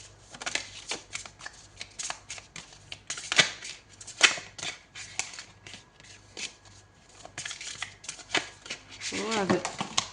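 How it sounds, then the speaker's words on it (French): Oracle cards shuffled steadily in the hands, a rapid run of crisp riffling flicks and slaps that keeps going, close and fairly loud, ending with a short swishing slide as a card is pulled. "on prend une deuxième carte d'énergie."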